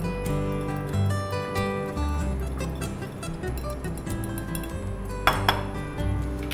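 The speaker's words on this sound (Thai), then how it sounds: "คุณผู้ชมตีให้เข้ากัน" Utensil clinks and scrapes against a bowl in a steady, busy rhythm, close by, with a couple of brighter knocks near the end, as a dressing is whisked.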